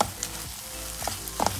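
Onam koottucurry, with ground and roasted coconut added, is stirred in a pan over a steady low sizzle, with a few soft scraping clicks from the spoon near the start and the end.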